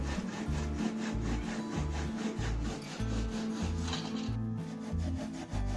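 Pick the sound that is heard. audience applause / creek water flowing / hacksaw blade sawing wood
hacksaw blade sawing wood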